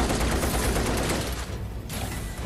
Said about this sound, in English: Why is he shooting at the projection?